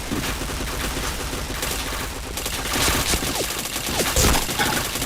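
Rapid bursts of video game gunfire rattle continuously over a busy in-game soundscape, loud and dense, with a few sharp swooping effects near the end.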